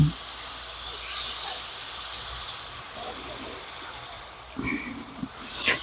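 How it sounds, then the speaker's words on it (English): Beef broth poured into a hot pan for Cajun pepper steak, a loud steamy hiss and rush that swells at the start, settles into a softer bubbling sizzle while stirred, then surges again near the end. "I am going to add in 2 cups of beef broth. I'm going to slowly stir this in."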